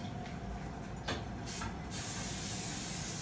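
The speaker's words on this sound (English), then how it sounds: "I'm just going to spray a little bit of this on my pan" A short hiss of cooking spray from an aerosol can onto a pan, with a steady broadband hiss continuing to the end; no voices.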